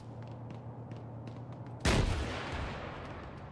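Gunfire in the military shooter game ARMA 3: faint distant shots tick in the background, then one loud, close blast booms and rolls off into a long fading tail.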